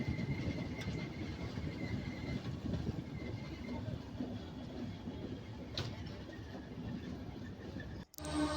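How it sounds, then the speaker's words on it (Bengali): A train passing near Santragachi, a steady, fairly quiet rumble of wheels on rails with faint clicks throughout and a brief dropout near the end. "এই জায়গাটা দেখো, ট্রেনটা কত সুন্দর লাগছে।"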